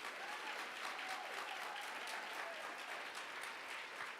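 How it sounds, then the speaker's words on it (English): A school event audience gives steady, even applause for student filmmakers, a continuous dense wash of clapping heard at a moderate distance, with no speech over it. "Let's give them another round of applause."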